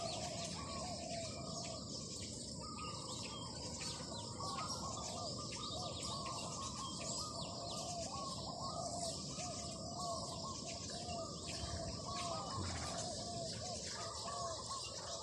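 A decoy bird sings outdoors in the morning, with repeated chirping calls set against a steady background chorus of insects and crickets, moderately distant and without speech.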